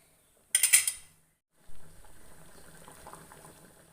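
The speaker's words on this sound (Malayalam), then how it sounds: "നല്ലോണം തിളച്ചിട്ടുണ്ട്." Guruvayoor rasakalan curry with ground green chili boiling in a pot: a brief bright splash, then a steady, soft bubbling simmer close by.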